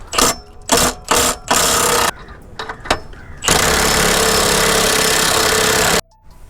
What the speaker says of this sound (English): So I'm gonna put these on the impact gun though.